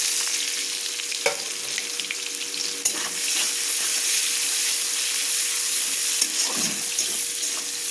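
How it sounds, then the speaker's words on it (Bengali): Onions sizzle steadily in hot oil with cumin seeds, a close, continuous crackling frying sound with a few soft stirring knocks and no talking. "পেঁয়াজটা একটু লাল লাল করে ভাজা হবে।"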